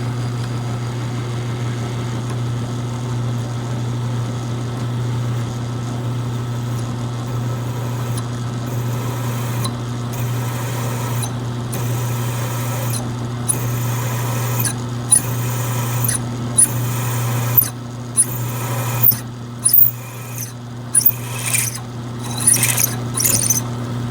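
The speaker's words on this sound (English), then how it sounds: "what I was doing there is called peck drilling" Peck drilling on a small mill drill press run dry with no coolant: steady motor hum throughout, then repeated short bursts of drilling and chip squeal in the second half as the bit is fed in and backed out.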